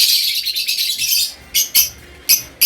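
Caged pet birds at a bird market twitter in a dense, high chatter that breaks into separate sharp chirps and squawks, close and fairly loud, with no speech.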